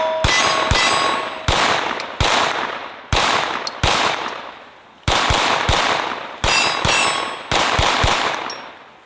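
A Beretta CX4 Storm 9mm pistol-caliber carbine fires sharp, loud shots at an outdoor range, singly and in quick doubles with ringing decays between them, about a dozen reports spread over several seconds.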